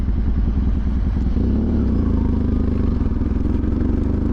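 A 1989 Yamaha XTZ 750 motorcycle runs at low revs, its engine a close, steady, low throbbing pulse with a faint mechanical clatter and no voices.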